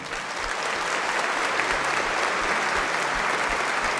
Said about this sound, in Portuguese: A todos eles uma salva de palmas.